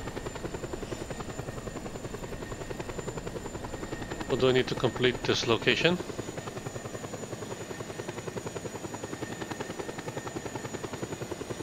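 Helicopter from the video game Just Cause 2 drones steadily throughout as a continuous rotor and engine hum, with a person talking over it in the middle.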